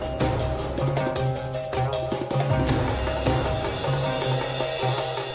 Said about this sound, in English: here's the Snowy Mountains battle music.